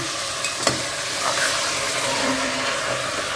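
Mutton sautéed in masala with green chilli inside a pressure cooker gives a steady, close sizzle and frying hiss, with a few sharp clinks of a spoon stirring against the pot early on.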